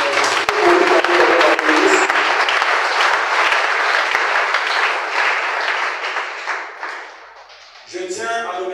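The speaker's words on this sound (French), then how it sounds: "Est-ce que tu peux acclamer pour le Seigneur?" A church congregation applauds and cheers loudly during a Sunday service, a dense sustained wash of clapping and voices that gradually fades before a brief burst of talk at the end.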